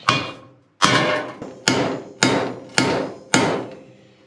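Six loud, evenly spaced hammer blows ring out close by as a bent metal arm from a 4-foot King Kutter rotary cutter brush hog is beaten back into shape, each strike followed by a short decaying ring.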